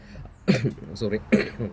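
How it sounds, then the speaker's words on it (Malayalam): Two sharp coughs break out about a second apart, close and fairly loud, with some murmured speech around them. "ചുമ ഉണ്ടല്ലോ, ഇതാണ് പ്രശ്നം."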